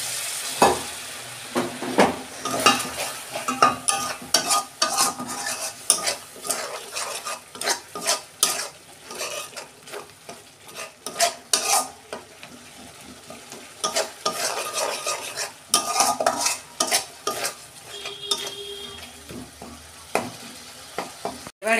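Masala for a prawn malai curry being sautéed with a little sugar and water, a spoon stirring and scraping the pan in steady, busy strokes over a constant close sizzle, with occasional clinks of metal.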